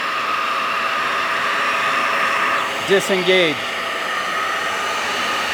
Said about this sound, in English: The vacuum pulls most of the water out.